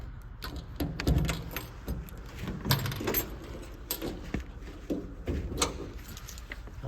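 Two car keys for a 1961 Ford Falcon Futura jangle and clink close by in irregular bursts, with soft knocks and handling noises between the rattles.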